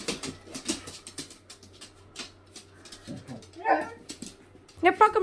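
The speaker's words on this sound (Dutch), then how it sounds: "eens op met dat geblaf" A dog barks and yips in short, sharp bursts near a person who talks and scolds it, with the loudest yelps clustered toward the end.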